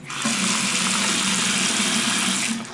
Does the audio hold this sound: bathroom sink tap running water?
yes